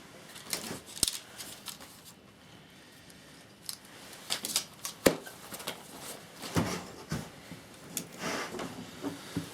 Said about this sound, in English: So I'm just going to get a Stanley knife and cut those back.